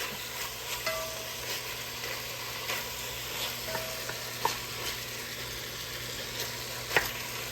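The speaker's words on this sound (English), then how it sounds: "Get that searing up in there." Sausage and shrimp sear in a pan for a spicy sausage and shrimp dish, a steady low sizzle with faint stirring clicks and scrapes throughout, quiet and continuous, with no talking.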